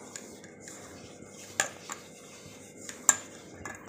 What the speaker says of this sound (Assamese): মই অলপ অলপকৈ দি লওঁ আৰু বেটাৰটো বনাই লওঁ।